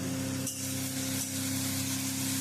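Chopped tomatoes hit a hot spice paste in a frying pan for mutton kosha, giving a steady close sizzle broken by a couple of soft stirring scrapes, with a low hum underneath.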